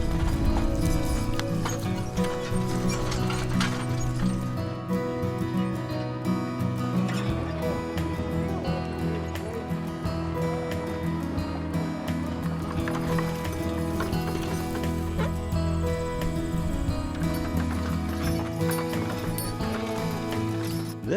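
Horses and horse-drawn wagons travel across the open prairie between Eagle Butte and Isabel, with steady clip-clop hoofbeats and rolling wheels under a continuous layer of music.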